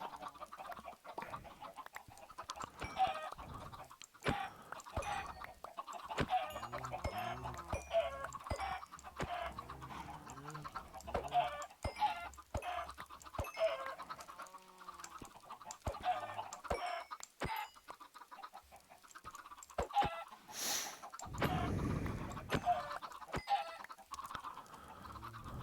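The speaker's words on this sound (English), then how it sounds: "Sleeping with the chickens." Chickens in Minecraft cluck repeatedly, several birds overlapping in short clucks and squawks, close and fairly loud, punctuated by sharp hit sounds and one brief noisy burst.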